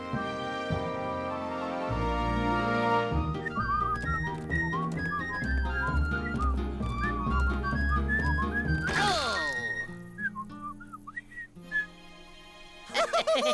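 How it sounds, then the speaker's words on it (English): A cartoon character whistles a bright, tuneful song over a busy musical backing, melodic phrases running for several seconds before the music thins out. "I've come to whistle a song with you"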